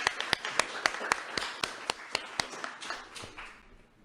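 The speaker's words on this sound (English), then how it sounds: "please give a big applause" Scattered hand claps from an audience at a Ramadan quiz award ceremony, a few distinct sharp claps repeating unevenly over a soft background wash, fading slightly toward the end, no one talking.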